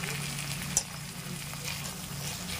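A ground cumin, coriander and ginger paste frying in a pan over a medium flame, a steady broadband sizzle with one brief clink near the start.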